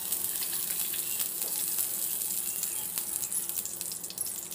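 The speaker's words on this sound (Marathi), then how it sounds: "एक पॅन घेतलेला आहे, त्याच्यामध्ये आपल्याला थोडंसं बटर टाकायचं आहे।" Butter melting in a hot pan on the stove for homemade pav bhaji gives a steady, close hiss and crackle that runs on without a break. Now and then a faint clink of a utensil sounds through it.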